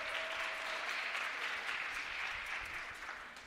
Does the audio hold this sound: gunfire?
no